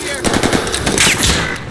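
Rapid machine-gun bursts in an online battle-royale shooter, loud and continuous across the moment with sharp repeated cracks up close.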